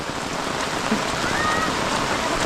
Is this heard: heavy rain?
yes